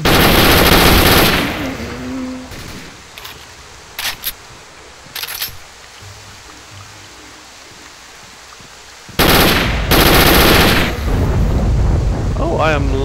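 Automatic gunfire in STALKER: Shadow of Chernobyl rips out in a loud sustained burst at the start, a few short shots follow, then another heavy burst erupts near the end.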